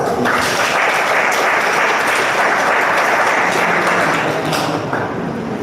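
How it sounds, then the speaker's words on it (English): Loud, dense audience applause at the valedictory session of a faculty programme, holding steady throughout with no talking. "Let us welcome with a warm round of applause."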